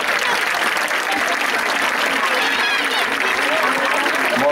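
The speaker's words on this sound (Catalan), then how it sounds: "un aplaudiment per tots vosaltres per tota la feina que heu fet" An audience applauds children at a Sant Jordi school celebration, a dense, steady wash of clapping that fills the whole stretch at close range without letup.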